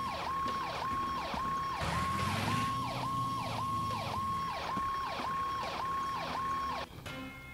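A wailing video game ambulance siren cycles up and down steadily, loud and close, over a low engine rumble, then cuts off abruptly near the end.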